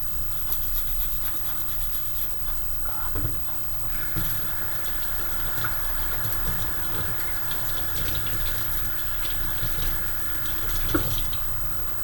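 Tap water runs steadily into a kitchen sink while a spoon is washed, a continuous close hiss with faint clinks, over a low humming background.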